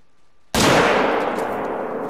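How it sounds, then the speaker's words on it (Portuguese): A single loud rifle gunshot, a .300 hunting rifle fired in theHunter: Call of the Wild, cracks sharply after a brief hush, then rolls away in a long echoing tail. "Aquele lá foi ruim o tiro"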